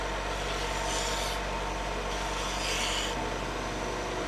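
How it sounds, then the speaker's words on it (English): Power sander shaping soft cherry hardwood in a woodshop, a continuous loud abrasive whir with surges as pressure on the workpiece changes. "So when I hit it with the sander just wants to eat away at the product"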